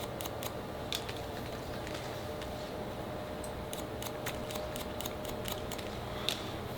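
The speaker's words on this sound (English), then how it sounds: "So I'm just gonna point cut this, over direct this back here, boom, point cut this." Scissors point cutting hair at a barber's chair, a quick series of small crisp snips in clusters, close and fairly quiet over a steady background hum with no talking.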